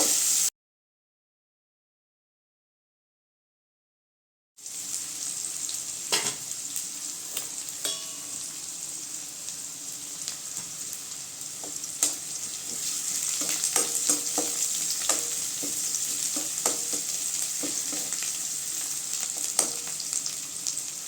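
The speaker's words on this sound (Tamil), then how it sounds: "சின்ன வெங்காயம் சேர்த்து நல்லா வதக்கி விட்டுக்கலாங்க" Small onions sautéing in a pan for a mixed greens keerai poriyal, a steady close sizzle with scattered stirring scrapes running on alone after a few seconds of silence.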